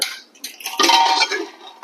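Metallic clatter of a pressure cooker lid being handled and lifted, a few clinks and scrapes in quick succession, close by with no voices.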